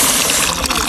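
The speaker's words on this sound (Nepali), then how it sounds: "यो चाहिँ माथि हाम्रो लेकबाट झरेको पानी होला एकदम चिसो छ" Very cold spring water fed from a mountain lake gushes out of a pipe along a hiking trail, a loud, close, continuous rushing splash lasting under a second with no talk.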